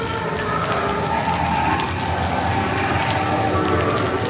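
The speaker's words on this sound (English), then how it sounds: "Oh, it's raining harder again." Rain comes down harder at a theme park, a dense, constant patter and hiss on nearby surfaces, steady and close with no speech.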